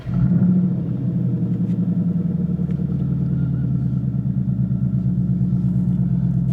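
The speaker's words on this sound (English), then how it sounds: "Start engine, or crank for 5 seconds." A 2011-14 Ford Mustang 5.0 V8 with a misfire fault starts up and settles into a steady, loud idle, its deep rumble running evenly close by without any talking.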